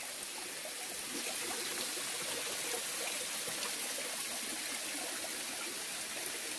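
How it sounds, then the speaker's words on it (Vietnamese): Water from a high waterfall in a forest pours and splashes continuously, a near, even wash of white noise with small trickling textures running through it, and nobody speaking. "chỗ trước mặt mình là một cái thác mọi người"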